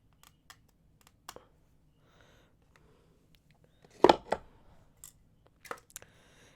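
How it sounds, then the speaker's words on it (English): Scissors snip through beading thread at close range, a sharp cluster of cuts near the middle with a few lighter clicks and taps scattered around it in an otherwise quiet room. "then I'm gonna take my scissors"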